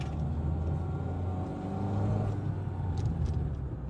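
Renault Clio 4 heard from the cabin while driving as the gears are changed, its engine a steady, close rumble that holds at an even level with slight swells in intensity.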